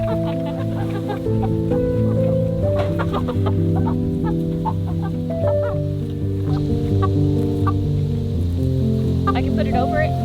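Indio Gigante hens cluck and murmur in a steady, busy chorus close by, with scattered sharper calls and a few human voices talking over them.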